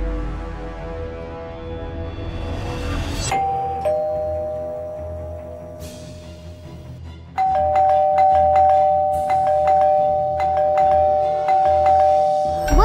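A doorbell chimes several times in sequence, clear ding-dong tones ringing out over a low background hum, with a short pause between rings.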